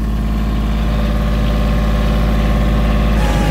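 Kioti CK2610 compact tractor diesel engine held at 2200 RPM, a loud steady rhythmic drone with a fast even pulse, close up and running without a break and with no talking.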